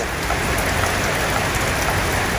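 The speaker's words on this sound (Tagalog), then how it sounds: "Pero ang ulan, sinabayan ng yelo." Heavy, dense rain mixed with hail pours steadily onto surfaces in Baguio City, a constant loud hiss with a crackling, pattering texture and no pauses.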